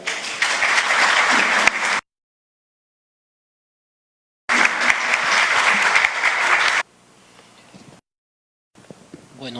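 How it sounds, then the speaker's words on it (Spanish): An audience at a book launch claps to welcome the speakers, two bursts of dense, steady applause broken by silent gaps, followed by faint room noise. "a recibirlos con un aplauso."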